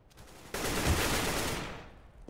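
A loud burst of rapid gunfire from a Counter-Strike match starts sharply and sustains as a dense rattling volley before tailing off, with no voices.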